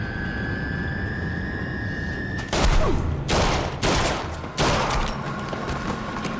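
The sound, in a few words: gunfire in TV show True Detective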